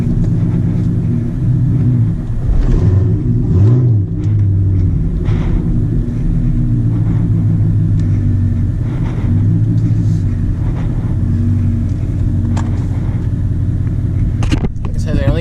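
A 2016 Chevrolet Camaro SS with full bolt-on modifications rumbles loudly while driving, its deep, steady engine drone filling the cabin with slight rises in revs, and a voice speaks over it.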